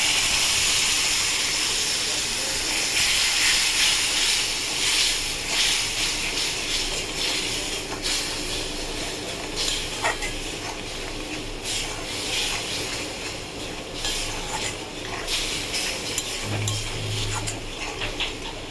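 Spices frying with onions in a pan for a katla fish kaliya give a steady, broad hissing sizzle, fairly close and continuous, with scattered crackles and scraping from stirring.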